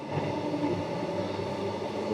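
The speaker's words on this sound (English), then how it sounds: "This is a Mandurah direct train, much quieter now." A Mandurah direct train passes through Cannington station in Perth, giving a steady, fairly quiet rumble of wheels and motors that holds evenly throughout, with no voices over it.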